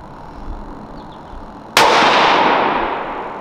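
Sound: rifle shot from a Bergara B14

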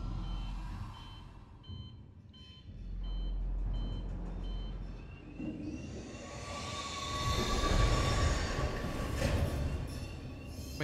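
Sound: transit tram called in Alien: Isolation video game

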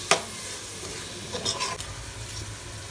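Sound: mixing spices and methi sizzling in a frying pan

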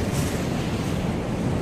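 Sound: rushing floodwater of the swollen Mahanadi river at a bridge

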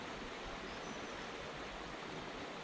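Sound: Tagus river flowing through a town

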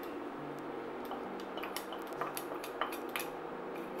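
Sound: whisk stirring cold cream into sauce

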